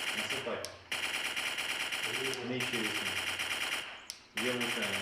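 Rapid mechanical automatic fire from a machine gun training simulator in sustained loud bursts, broken by short pauses, with voices talking faintly underneath.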